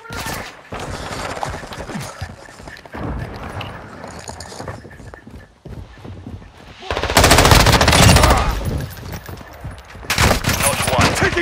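Rapid automatic gunfire from Call of Duty Modern Warfare II multiplayer, loud bursts with bullets rattling, heaviest in long sustained volleys toward the end, with voices talking in between.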